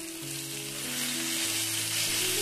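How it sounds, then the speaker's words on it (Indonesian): Ground spice paste sautéed in hot cooking oil sizzles and fries steadily, a loud continuous crackle with a faint tonal hum beneath, no talking. "Kalau sudah panas, langsung aja kita tumis bumbu yang sudah kita haluskan tadi."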